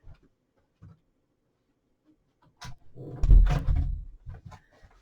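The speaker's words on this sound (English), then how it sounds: "So I'm just going to close this door here." A few faint clicks, then a door swings shut with a wooden thud and rattle of the latch, followed by soft small knocks.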